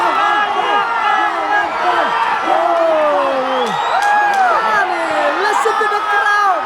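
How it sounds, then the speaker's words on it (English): A crowd at a fight yells and whoops loudly, many overlapping rising and falling shouts forming a continuous roar close to the listener. "Listen to the crowd."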